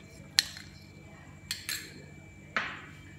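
A spoon clinks sharply against a vessel a few times while custard powder and condensed milk go into milk, producing three or four separate bright metallic taps over a quiet room.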